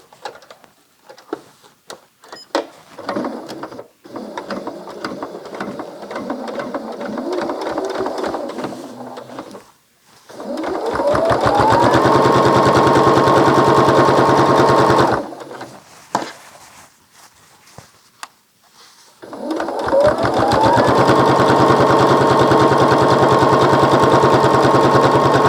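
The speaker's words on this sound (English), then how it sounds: "now I am binding along the top of the quilt" Sewing machine stitching binding along the top edge of a quilt, running in two long steady bursts with a loud continuous motor hum and rapid needle rhythm, separated by quieter handling sounds and pauses.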